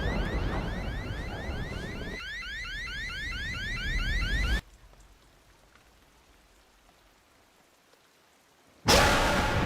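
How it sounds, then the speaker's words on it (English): Rainstorm outside a cave in the trailer for the movie 65: steady loud rain hiss with a rhythmic electronic whine over it for about four seconds, then a near-silent stretch, then a sudden loud burst of noise. "Mills and Koa camp out in a cave during a rainstorm"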